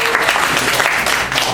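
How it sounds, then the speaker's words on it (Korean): A studio audience claps briefly in a short, steady burst of applause with no break. "이렇게 박수 한 번만 더 쳐주세요"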